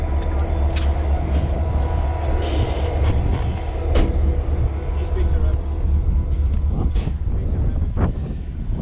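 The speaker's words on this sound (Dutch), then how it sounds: "Oké, de trein die is gekomen." Long iron ore freight train rolling past in Mauritania, a steady, loud low rumble of wagons with wind buffeting the microphone and occasional sharp metallic squeals and clanks, with voices faintly heard under the noise.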